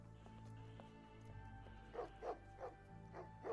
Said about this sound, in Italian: Ha due cani.